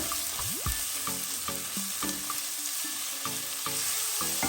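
Ginger paste and garlic being stirred into frying oxtail, a steady hiss of sizzling oil with a run of distinct scraping and clinking strokes from the spoon across the pan, close and fairly loud.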